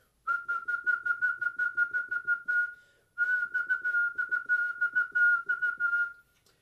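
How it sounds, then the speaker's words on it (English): A clear, steady whistled tone pulsing in quick rhythmic articulations, played in two phrases separated by a short pause. "whistle and articulate while you whistle"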